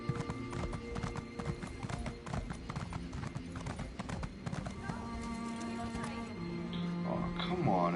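A horse's hooves clip-clop in a quick, steady rhythm while riding in the video game Elder Scrolls Online, with a brief neigh near the end and voices faintly underneath.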